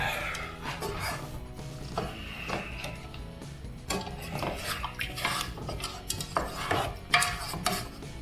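A metal whisk scrapes and clatters against a pot while a roux cooks, with busy, continuous rhythmic scraping and knocking strokes, fairly close and steady throughout, no talking.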